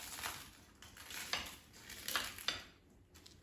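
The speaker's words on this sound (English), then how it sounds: "Now let me just cut one so you can see what's inside." A knife cuts through a crispy, flaky air-fried frozen Jamaican beef patty. Several short, crackly crunches break out in quick succession, close and fairly quiet, with no talking.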